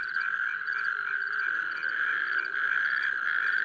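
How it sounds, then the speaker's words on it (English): Small toads in a Polish forest calling with a steady, rattle-like mating trill, loud and continuous throughout, with several overlapping callers close by. "Males try to attract partners with loud,"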